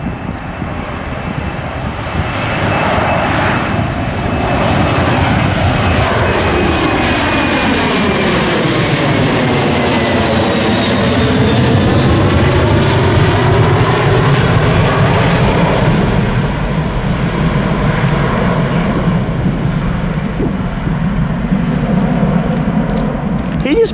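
A jet airliner's engines roar at full takeoff thrust during the runway run, a loud, sustained broadband rumble with sweeping tonal whine that swells and shifts as the aircraft passes, heard nearby with excited voices in the background.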